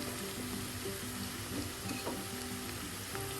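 Potato and okra stir-fry with garam masala stirred in a hot pan, a steady close sizzle and fry crackle running throughout with soft scraping stir strokes and no voices.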